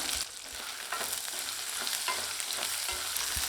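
Onions, garlic and dried red chillies sizzle steadily in a hot pan while a utensil stirs and scrapes at intervals, close and crackling.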